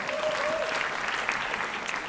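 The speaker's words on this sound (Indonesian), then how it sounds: "Tepuk tangan untuk Grand Finalis kita" Studio audience at a stand-up comedy grand final applauding the finalists, a dense, steady wash of clapping with a faint voice at the start.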